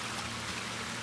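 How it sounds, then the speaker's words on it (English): Waterfall beneath a small bridge on a trail, a steady rushing, trickling wash of water heard up close and alone. "A little bridge, covering with a waterfall."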